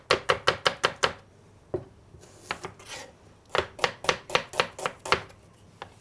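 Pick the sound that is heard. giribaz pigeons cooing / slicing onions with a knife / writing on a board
slicing onions with a knife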